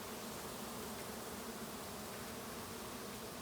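Steady dense buzzing of many bees, continuous and even throughout, like standing near a busy hive.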